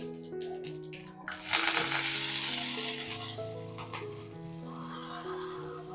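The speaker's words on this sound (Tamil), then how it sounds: "தாளிக்க போறோம் மோர் குழம்புக்கு." Hot coconut oil suddenly bursts into a loud sizzle as mustard seeds, fenugreek, dried red chilies and curry leaves hit the pan, then crackles steadily while soft music plays underneath.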